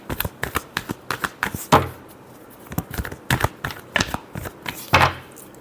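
Tarot cards are shuffled close by in a fast series of crisp riffling taps and flutters, with a couple of louder slaps as the deck is squared.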